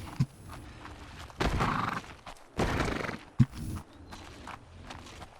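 A horse in the survival game ARK Survival Ascended whinnies in a few bursts, with clip-clopping hooves and footsteps between the calls, fairly close and loud against quiet game ambience.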